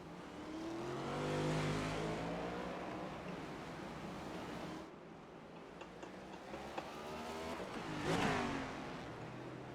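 A NASCAR race car roars past at speed at Long Beach, its engine swelling and fading in a long broad whoosh, with a second car sweeping by later amid steady track noise.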